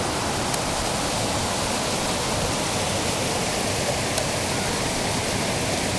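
Kuang Si waterfall pours in a steady, dense roar of falling water at the bottom pool, continuous and close with no pauses.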